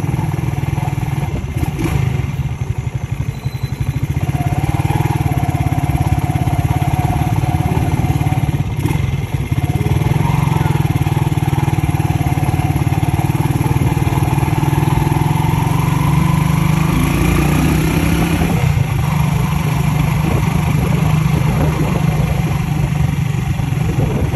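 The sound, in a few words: motorcycle engine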